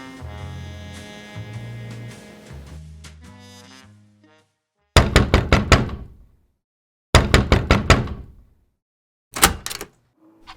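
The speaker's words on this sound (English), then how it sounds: "For me, it all started with a knock on my door." Knocks land on a door in a radio drama sound effect, three separate bursts of sharp rapid raps, each a quick run of loud hits with silence between, after a fading musical passage.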